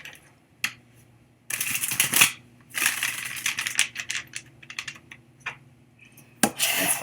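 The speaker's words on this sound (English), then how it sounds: "One more shuffle." Tarot cards being shuffled in several riffling, crackling bursts with short pauses between them, fairly close and alone with no talk, ending in a sharp final burst.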